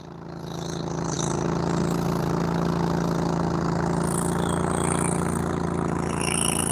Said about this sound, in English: It's a fishing boat.